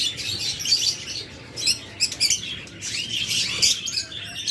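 Pet lovebirds and cockatiels kept for sale chirp and tweet in bursts, sharp high calls overlapping close by, with occasional fluttering of wings and no talking.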